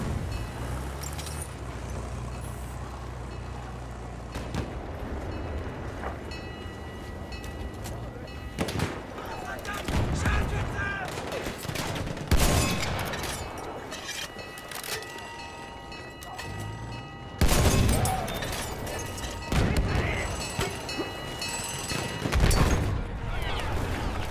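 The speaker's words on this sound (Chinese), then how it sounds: "Wait for the enemy artillery barrage to stop firing." Enemy artillery barrage pounding a Battlefield 1 match on the Amiens map: repeated heavy booms and bursts of fire, some close and loud, with a constant din of battle and players talking over it.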